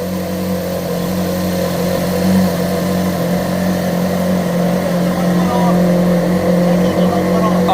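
A Ferrari 458 Spider's engine idles steadily after a spark plug change, a loud continuous mid-pitched drone with a strong low hum that holds even for several seconds, with faint background noise.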